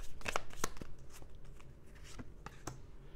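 Tarot cards shuffled for a reading, a quiet run of crisp riffles and soft slaps spaced unevenly, close and faint with no talk.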